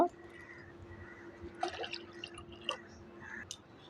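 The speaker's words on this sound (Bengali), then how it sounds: "এর মধ্যে এখন জল মিশিয়ে দেবো একটু" Water added to strained raw green mango juice for a sweet-sour sharbat; soft, quiet drips and small splashes come in a few brief bursts over a low background hum.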